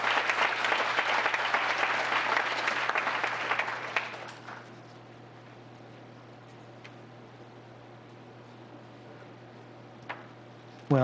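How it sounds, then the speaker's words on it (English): Steady round of applause from the audience at a town council meeting in Gilbert, a dense, even wash of clapping that stops abruptly, leaving a quiet room with a low hum and a few faint knocks. "Let's give one more round of applause for all that they do for the community"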